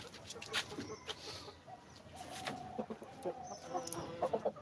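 Chickens cluck and squawk nearby in short, uneven bursts, with some sharper calls, while people talk quietly beneath them in a home setting.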